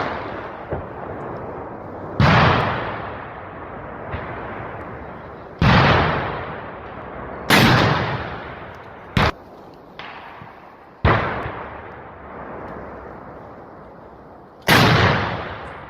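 Gunfire and artillery fire in war footage near Kupiansk, with a series of loud, sharp blasts spaced a few seconds apart, each trailing off into rumbling decay, over a steady background roar.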